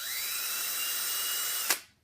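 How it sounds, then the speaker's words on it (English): Electric drill with a 2mm bit boring through a plastic bleeder hole in an emulsion shock cap, a steady high whine running close and loud for nearly two seconds before cutting off sharply. "drill through a hole"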